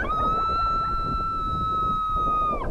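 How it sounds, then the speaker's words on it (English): A recorded female coyote invitation howl plays through a game caller during a coyote hunt in Canada: one long, steady, wavering tone held for a couple of seconds, then dropping off at the end. "Now I'm gonna play female invitation howls"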